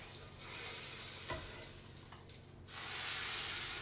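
A hot tarka is poured into a pot of chickpeas and bursts into loud sizzling that hisses and crackles, surges again near the end and stays close and steady with no talking.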